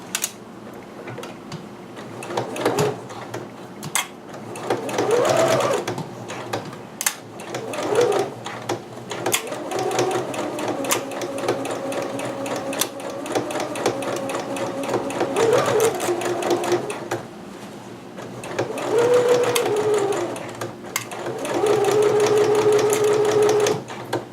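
Close, steady whirring and ticking from a sewing machine basting kimono seams, running in repeated stretches with a few brief pauses, while a person talks quietly at times.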